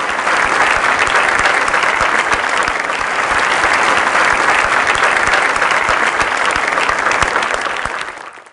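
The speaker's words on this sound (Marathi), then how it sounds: "नाही, आज झाल्या साध्या टाळ्या," An audience bursts into loud, sustained applause at a water conservation competition event in Maharashtra, thick dense clapping that holds steady before tapering off at the end.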